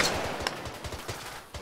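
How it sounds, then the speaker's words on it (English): Bursts of gunfire ring out from inside a white building in a combat setting, sharp repeated reports spaced irregularly over a low background, some shots louder and closer than others. "It sounds like there's gunfire coming from inside."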